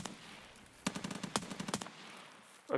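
Gunfire rattles in a first-person shooter game, a few quick shots followed by a rapid burst of automatic fire, crisp but moderately quiet, with no one speaking.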